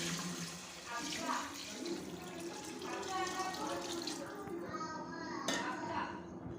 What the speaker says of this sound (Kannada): ನೀರು ಹಾಕೊಳತ್ತೀನಿ ನೋಡ್ರಿ ಇಲ್ಲಿ